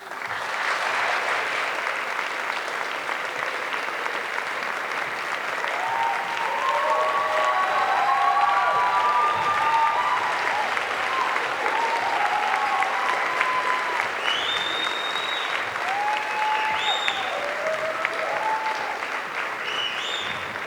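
Sustained audience applause after a poem at a queer youth leadership awards ceremony, a long steady wash of clapping with scattered cheers and whoops rising over it.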